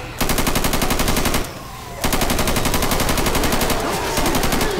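Rapid, continuous automatic gunfire hits zombies in a video game, loud and sustained with a short pause midway before it resumes.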